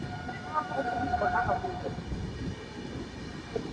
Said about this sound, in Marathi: ट्रेन परत चालू झाली आहे.